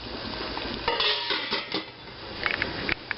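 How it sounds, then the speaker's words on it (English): Water churns at a rolling boil in a water bath canning pot on a gas stove, a dense continuous bubbling roar with occasional louder gurgles and a light clink. "That is a rolling boil."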